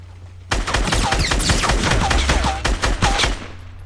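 Minigun fire in the video game Fortnite rattles out in a loud, rapid, continuous burst lasting about three seconds, with dense overlapping shots and faint ricochet-like whines before it stops abruptly.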